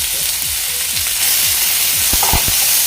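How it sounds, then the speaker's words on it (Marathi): Tomato, tamarind, ginger and garlic sizzle steadily in hot oil, a dense continuous frying hiss with occasional soft scrapes and knocks of a spoon stirring the pan, close and loud throughout. "आता हे सर्व व्यवस्थित परतून मी मसालेसुद्धा व्यवस्थित असे भाजून झाले आहे तेलामध्ये"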